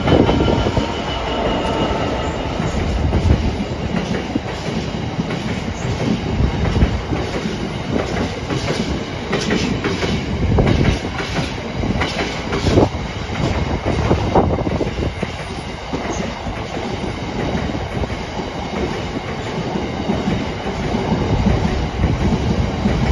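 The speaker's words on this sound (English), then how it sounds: "Coming past now is 66603 Freightliner." Freightliner Class 66 diesel locomotive 66603 passing through Gloucester station, loud and close, with heavy rolling wheel rumble, rhythmic clickety-clack over rail joints and occasional squeal sustained for over twenty seconds.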